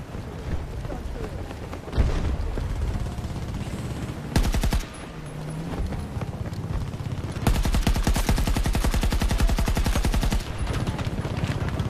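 AK-24 rifle fire in the shooter game Battlefield 2042: loud, rapid automatic bursts close up, several sustained strings of rapid shots separated by short pauses, with faint voice chatter beneath.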